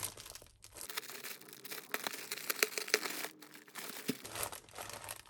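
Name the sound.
crinkling plastic zip bags from a yarn parcel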